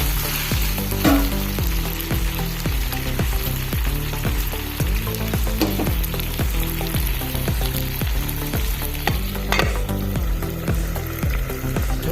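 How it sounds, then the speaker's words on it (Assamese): Potato and chicken pieces fry loudly in a pan, a dense continuous sizzle layered with frequent stirring and scraping clatter throughout. "আলু আৰু মাংস অলপ সময় এনেকৈ ভাজি ল'লোঁ।"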